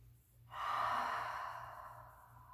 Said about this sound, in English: So taking 3 rounds of breath here.